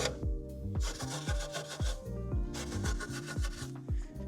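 A thin bristle brush scrubs the wheel barrels of a BMW M4 behind the brake calipers, close rhythmic scrubbing strokes with a steady back-and-forth pulse and a low undertone.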